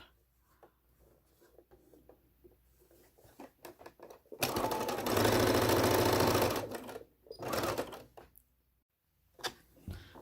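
A sewing machine stitches the common edges of hexagon quilt pieces for a center star quilt block, one steady loud run of about two and a half seconds, then a shorter burst, with quiet handling clicks around it.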